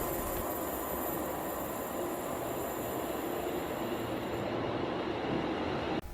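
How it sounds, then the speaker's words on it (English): A passenger train arrives at Port Glasgow station on the line to Wemyss Bay, a steady roar of wheels on rail with a high, thin whine above it, heard from the platform and staying loud until it cuts off abruptly. "as my train to Drumfrocha arrives"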